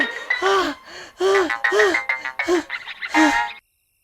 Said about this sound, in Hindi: अबे फोन है बे।